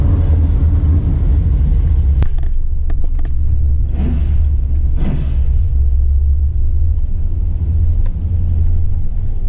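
Onboard a Trans Am drag car at the track racing a Camaro, a loud, constant low engine rumble dominates throughout, with a few rattles and creaks breaking through partway.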